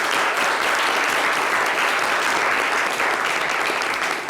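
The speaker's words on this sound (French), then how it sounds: "On remercie Shekina avec des applaudissements bien nourris" Sustained, loud audience applause fills the room at a live talk show event, dense and steady throughout with no voices breaking through.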